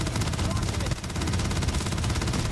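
Rapid, continuous automatic gunfire in the space game Starfield aimed at swarming creatures, loud rattling bursts with brief gaps and no talk over them.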